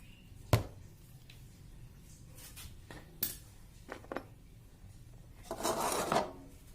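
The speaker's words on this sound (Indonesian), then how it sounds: "Ini ada bekas-bekas lem ini yang sangat sulit, kita gerok dulu dengan obeng." A screwdriver scrapes stubborn old glue residue off an automatic scooter engine part: scattered sharp clicks and taps, then a rougher, sustained rasping scrape near the end, close and fairly quiet.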